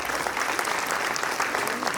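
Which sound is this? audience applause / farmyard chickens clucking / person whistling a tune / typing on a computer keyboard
audience applause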